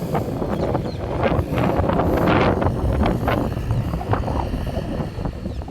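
Wind rushes steadily across an open, quiet farm field in the countryside, a loud continuous buffeting roar against the microphone with no voices.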